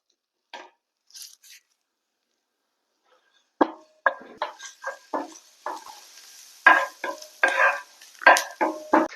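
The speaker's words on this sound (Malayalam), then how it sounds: "ആദ്യം നമ്മൾ വെളുത്തുള്ളി ഇട്ടു. അതൊന്ന് നന്നായിട്ട് മൂത്ത് വരണം." Garlic browning in a pan: a quiet opening, then a run of close scraping stir strokes with a faint sizzle under them that grows busier toward the end. No one speaks.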